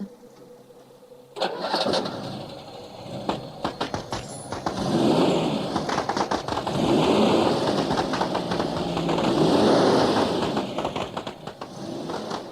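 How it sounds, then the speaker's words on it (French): An old car engine sputters into life, then runs unevenly with repeated sharp pops and crackles from a holed, leaking exhaust, loud and close. "Et ce pot d'échappement est percé comme une passoire. Écoutez ça, comme il pétarade."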